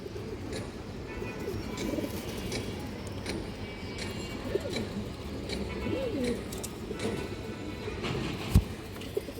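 Pigeons coo softly in a steady low murmur, with a faint hum of background noise and an occasional brief knock.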